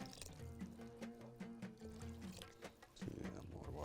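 Water is poured into a pot of fish and salt while a Bahraini dish is being cooked. It trickles and splashes steadily at close range, and a louder gush comes near the end.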